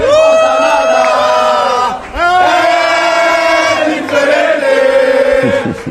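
Botafogo supporters packed into a bar in Belém chant and cheer loudly in unison, a sustained crowd song with a short dip around two seconds before the singing swells again.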